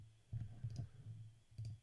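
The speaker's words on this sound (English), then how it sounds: "So if I was to start typing away" Soft computer keyboard typing, a few quick clusters of light clicks close by but faint, separated by short pauses.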